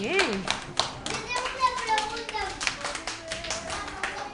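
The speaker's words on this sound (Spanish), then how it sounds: "Un aplauso que leu moi ben" Children clap for a grandmother after her reading in a classroom, uneven bursts of small hands clapping close by, mixed with kids' voices chattering over and between the claps.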